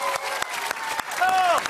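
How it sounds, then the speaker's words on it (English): A studio audience at a children's TV show claps and cheers, with dense applause and voices filling the short stretch, loud and close. "Give yourself a huge cheer!"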